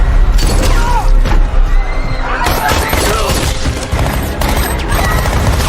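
Gunfire and a grenade blast in an action film scene with Jason Statham facing the Russian mafia: a loud, dense barrage of shots and bangs over a rumbling, chaotic mix.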